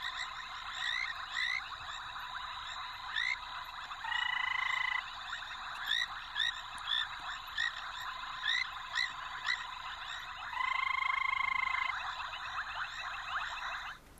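A chorus of frogs keeps up a continuous stream of croaks and clicks, broken by two longer, louder buzzing calls, with no talking over it.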